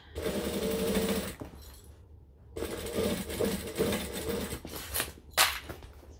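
Sewing machine stitching around a bag in a big circle, a rapid mechanical whir in bursts with short pauses between runs, close and clear with small clicks and knocks.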